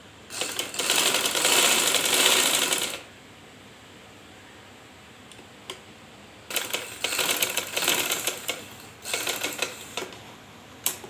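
A sewing machine stitches a shirt cuff in two loud bursts of rapid mechanical chatter, the first lasting about three seconds, then a quiet pause before several shorter runs of stitching start and stop.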